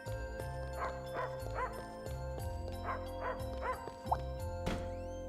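A dog in the video game Fantasian Neo Dimension gives a series of soft, evenly spaced barks over looping game music with a steady bass line.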